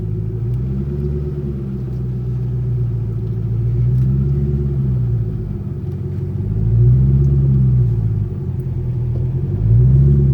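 A deep, loud engine rumble from a 2006 Ford GT with its muffler removed, driving, with the pitch rising and falling in repeated waves as it revs and shifts.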